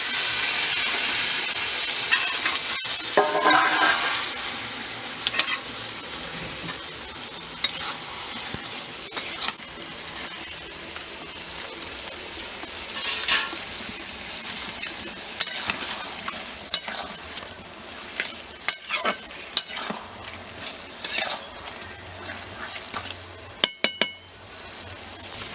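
Malabar spinach fries in a pan for a spinach curry, a steady close sizzle and hiss broken by irregular scraping and stirring knocks, with no talking.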